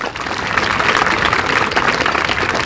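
Crowd clapping at a sub-junior basketball championship event, a dense continuous wash of applause at steady loudness throughout, with no voices over it.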